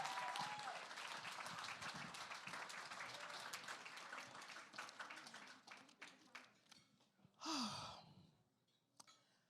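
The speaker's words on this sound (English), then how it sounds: "Give her a big round of applause, everybody." Audience at a gala applauding Diana Rodriguez, steady crowd clapping that fades and thins out, then a brief loud exhalation or voice near the microphone before trailing scattered claps.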